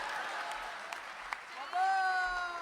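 Audience applause at a Hindi comedy poetry show, a sustained clatter of clapping that swells near the end while a voice speaks over it.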